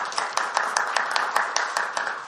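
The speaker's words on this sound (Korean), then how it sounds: "박수 한번 주시죠." An indoor audience at a panel event claps in a short, even burst of applause, each hand clap distinct in a brisk regular rhythm with no speech over it.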